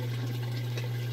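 Water runs slowly through a phosphate reactor on a planted 150-gallon discus aquarium, a soft continuous trickle and gurgle over a steady low pump hum, close and even, with no voices.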